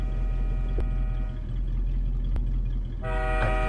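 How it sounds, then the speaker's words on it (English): In the racing game Forza Horizon, a loud train horn blares in short blasts over a constant engine drone, with a sharp toot near the end; no voices. "I think I hear the train."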